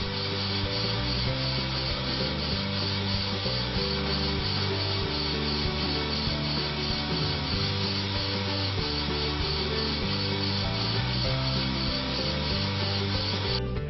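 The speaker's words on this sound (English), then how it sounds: "Now we will make one final pass using the fine cut." Brake lathe taking a final fine-cut pass on a brake rotor, a steady continuous grinding, rubbing scrape with a low machine hum, even and unbroken throughout at close range.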